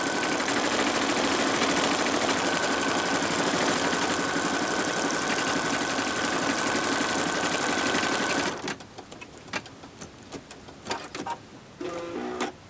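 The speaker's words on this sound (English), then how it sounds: "The second stitch is going to just tack this in place." Embroidery machine stitching a tack-down pass over mylar, a steady rapid needle chatter running loud and continuous for about eight seconds, then stopping, leaving quiet clicks and light handling sounds.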